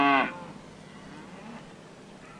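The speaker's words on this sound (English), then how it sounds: "said the farmer with his cows" A single loud cow moo from a farmer's herd bursts out at the start and cuts off after a quarter second, leaving a faint outdoor hiss.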